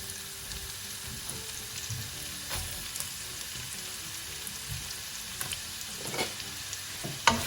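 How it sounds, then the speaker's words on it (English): Onions fry in hot sunflower oil in a pan, giving a soft steady sizzle with scattered small crackles and a few light clinks, close by and fairly quiet, with no voices. "Once it's nice and hot, I'm going to add the onions and cook for 5 minutes."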